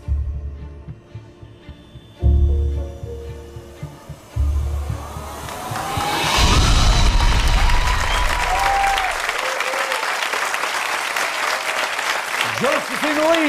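An audience at a magic show breaks into applause that swells into sustained, loud clapping with cheering, after a stretch of rumbling music and a voice speaking.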